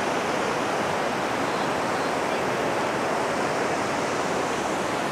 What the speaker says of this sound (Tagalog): malakas yung water, yung agos ng water